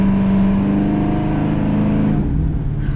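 A 500-horsepower 1973 Chevy C10 truck engine revs as the throttle is cracked, a loud, steady close-up roar whose pitch holds and then drops off near the end.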